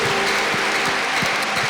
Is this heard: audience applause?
yes